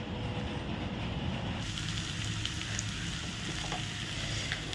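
Curry simmering and frying on a home stove at night, a dense, continuous close sizzle that holds steady throughout with a few faint clinks, and no talking.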